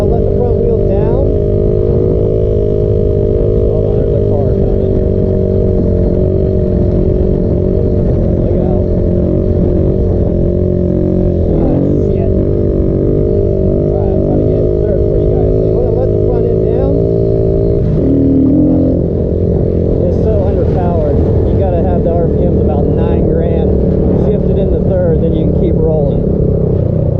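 A Kawasaki Z125 motorcycle engine drones steadily while riding, with revs held up and brief dips and rises as gears are shifted, loud and close under a rider's ongoing talk.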